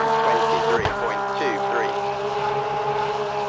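An LMGT3 race car engine in a racing video game drones loudly on the straight, a steady, tonal mechanical note with brief pitch shifts as it passes, heard from outside.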